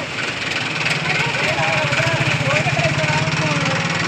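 A Mahindra tractor at a tractor tug-of-war contest chugs steadily and close by, its diesel engine pulsing in a fast, even beat for the whole stretch while faint voices sound behind it.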